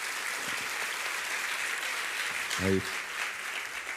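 Church congregation applauding during a sermon, a steady roar of clapping from many hands throughout, with a brief spoken word from a man partway through.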